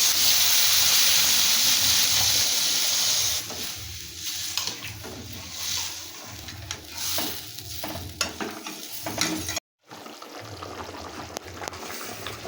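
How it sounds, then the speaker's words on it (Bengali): Water poured into a hot pan of coconut and pointed gourd curry sets off a loud, steady hiss and sizzle that settles into bubbling and stirring scrapes, close up, with a short silence near the end. "এবার আমি পরিমাণ মতন জল দিয়ে দিচ্ছি"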